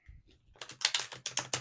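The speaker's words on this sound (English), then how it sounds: "as I'm shuffling the tarot" Tarot cards shuffled close up, a quick run of crisp riffling clicks after a soft start.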